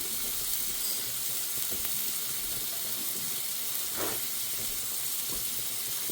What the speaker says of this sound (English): I'm going to add that and let this sizzle, okay?